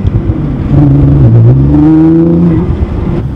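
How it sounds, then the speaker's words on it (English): A supercar engine accelerates while driving, rising in pitch as the revs climb, then settling, loud and close, with no talking. "we're gonna drive like a little bit and then we're gonna let off and like just hear how beautiful this thing sounds"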